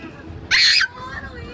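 People scream together in a brief, loud, high burst on a swing ride at a fairground, standing out over a steady background of crowd murmur.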